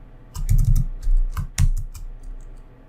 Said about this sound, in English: So let's just type,